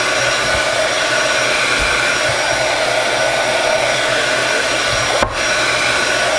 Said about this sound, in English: this is how I shrink wrap my soaps